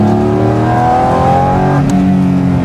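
Porsche GT4 RS engine, close and loud, revving with harmonic pitch climbing steadily and a quick gearshift break near the end before the note resumes lower, running continuously throughout.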